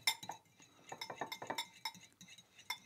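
A metal fork clinks and scrapes against a bowl while stirring steak tartare, a quick uneven run of bright close taps, fairly quiet and with no talk.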